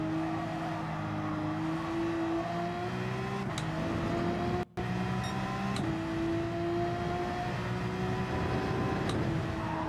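A steady whining car engine in Gran Turismo 7 at the Nürburgring GP hums continuously, pitch shifting slightly as it shifts gears, with a brief dropout midway.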